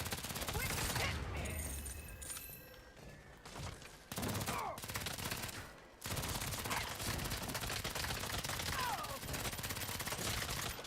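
Rapid SMG gunfire in the Saints Row reboot video game, with dense bursts running almost the whole time and a brief lull near the middle. The shooting is loud and close, mixed with other game noise.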